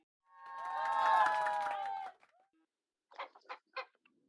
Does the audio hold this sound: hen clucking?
yes